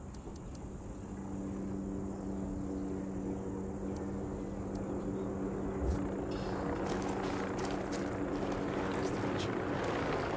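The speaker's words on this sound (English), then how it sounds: "Chopper incoming." A helicopter approaching in Ghost Recon Wildlands produces a steady rotor drone that grows louder and fuller over several seconds, mixed with game noise, occasional sharp clicks and muffled voices.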